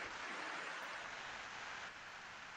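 Steady rain makes an even hiss that does not change over the few seconds.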